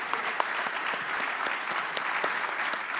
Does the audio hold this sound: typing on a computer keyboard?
no